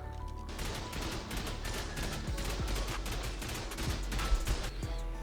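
Turrets in a video game fire rapid automatic bursts, a dense, fast stream of sharp shots continuing for several seconds at moderate volume with no speech.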